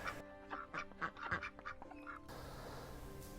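Ducks in a free-range area quack in a quick run of repeated, fairly close calls that cut off abruptly, followed by a steady wash of background noise.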